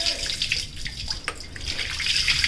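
Water gushing out of a pipe once pressure lets it flow, a steady broadband rush with a slight drip-like patter, moderately loud and continuous with no voices over it.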